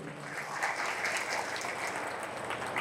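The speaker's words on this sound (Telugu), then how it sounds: "గట్టిగా చప్పట్లు కొట్టుంది" An audience at a political meeting addressed by Dr. R.S. Praveen Kumar breaks into continuous applause, with many hands clapping in a busy, even patter at moderate distance, with no voice standing out over it.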